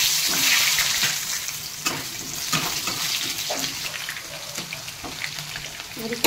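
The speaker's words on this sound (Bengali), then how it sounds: "তেল গরম হয়ে গেছে। এবার এই আলুগুলো ভেজে নেব।" Potato pieces frying in hot oil in a Bengali home kitchen, a steady close sizzle with bubbling hiss and occasional clinks of stirring, no talking.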